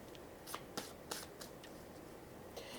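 Tarot cards are shuffled by hand in a quiet room, making a few soft riffling bursts and light slaps against a low hiss, with no talking.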